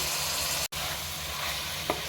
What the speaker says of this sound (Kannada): ಈರುಳ್ಳಿ ಸ್ವಲ್ಪ ಫ್ರೈ ಆದ ನಂತರ ತೊಳೆದಿಟ್ಟಿರುವಂತಹ ಚಿಕನನ್ನು ಹಾಕೊತಾ ಇದ್ದೇನೆ